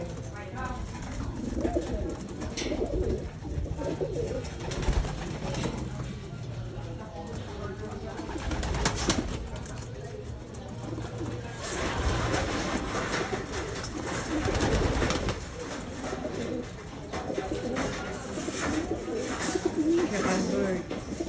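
Racing pigeons of a Japanese line coo in a loft, a steady low murmur running the whole time beneath nearby talk and other background noise.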